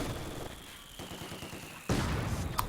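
Rapid machine gun bursts in the real-time strategy game Company of Heroes 2, a fast rattling volley through the middle followed by a louder burst with explosive impacts near the end.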